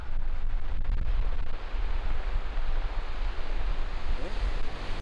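Ocean waves wash continuously onto the shore along a coastal walking trail at Eupcheon Harbor in Yangnam, Gyeongju, a loud, steady broadband roar with no voices.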